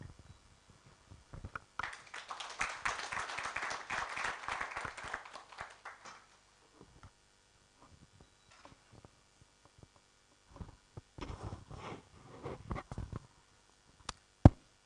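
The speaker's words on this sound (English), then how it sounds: "Let's give them another clap." Audience applause closes a panel session at a 2023 research dissemination forum, a dense burst of clapping lasting a few seconds before fading into scattered small noises and a faint hum.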